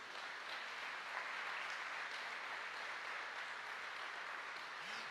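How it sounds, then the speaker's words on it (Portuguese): A church congregation applauds steadily and fairly loudly throughout, a dense wash of clapping with no voices over it. "Você pode aplaudir o Senhor,"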